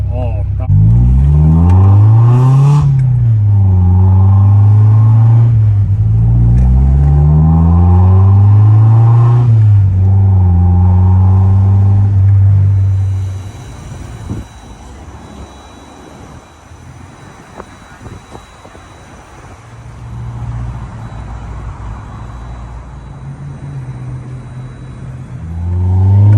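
A Nissan 240SX engine revs repeatedly on the road, each pull climbing in pitch and dropping back, loud and close for about half the clip before settling into a quieter cruising drone with a voice speaking.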